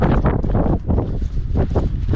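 Strong, gusty wind buffets the microphone on a mountain descent at Cadair Idris, a continuous loud roar that swells and dips in repeated surges.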